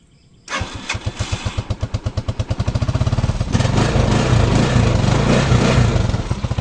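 A motorcycle engine cranks and catches, then idles and revs with a rapid, steady putter that grows louder and rougher as it warms.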